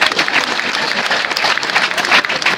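An audience at an outdoor awareness show in Divo applauds a mayor, with loud, dense crowd clapping that swells and stays strong throughout.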